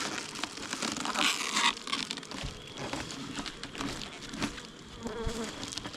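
Honey bees hum and buzz around a temperamental, productive hive during fall beekeeping, a close, continuous drone mixed with crinkling and rustling handling noises.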